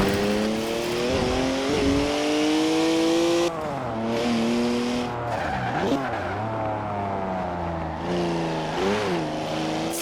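Three-litre twin-turbo straight-six, 335 horsepower, drifting in Forza Horizon 4, with tires squealing and skidding in long sweeping slides as the engine revs rise and fall, loud and close.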